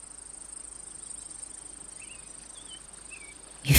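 Insects trill in a continuous pulsing chorus in a forest, with a few faint bird chirps in the background, before a sudden loud burst at the very end.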